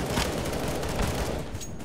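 Gunfire in the video game Counter-Strike: Global Offensive crackles in a dense, rapid burst of shots, loud and continuous, fading slightly toward the end, with no talking.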